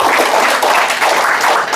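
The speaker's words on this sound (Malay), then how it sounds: "Kita berikan tepukan gemuruh sekalian" Audience applause at an education leadership seminar opening, a steady dense wash of many hands clapping continuously, fairly loud and close, with no voices over it.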